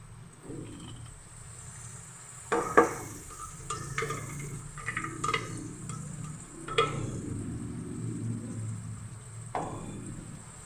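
Spoon stirring tomato paste into a simmering chicken and white chickpea curry, with repeated scraping strokes against the pot under a steady low sizzle, close and moderately loud.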